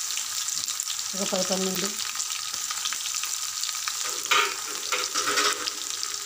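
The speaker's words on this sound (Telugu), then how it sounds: "ఆవాలు చిటపట్లాడుతున్నప్పుడు 2 ఎండుమిరపకాయలు, కచ్చాపచ్చా దంచిన ఎల్లిపాయలు" Mustard seeds spluttering in hot oil with dry red chillies and coarsely crushed garlic for a toor dal and tomato curry, a close, continuous frying sizzle with sharp crackles, while a voice briefly talks over it.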